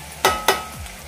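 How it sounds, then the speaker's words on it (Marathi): Two sharp hisses a quarter second apart as soya chunks drop into hot spiced masala in a kadhai, each burst fading into a low sizzle. "आता यामध्ये आपण सोया चंक्स घालून घेऊया."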